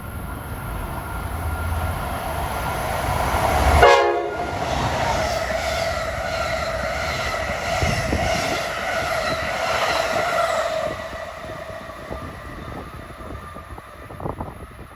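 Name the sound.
Keystone passenger train passing with horn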